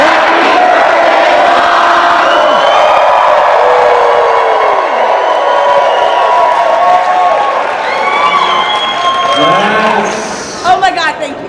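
A large crowd at an eXp Realty leadership event in Las Vegas lets out a loud, sustained cheer and roar for a mother's birthday, voices whooping over one another before it breaks into scattered shouts at the end.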